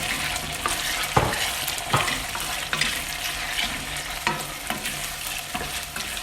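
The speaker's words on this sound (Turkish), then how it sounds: "Şimdi etimizi atıyoruz. Etimizi de kavuracağız." Meat sautés in a hot pan for a homemade Turkish dry bean stew, with a steady sizzle and occasional scraping knocks as it is stirred, close up and with no talking.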